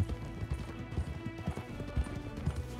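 Rhythmic hoofbeats of horses galloping at a steady clip in Red Dead Redemption 2, fairly close, with a brief whinny and no talking.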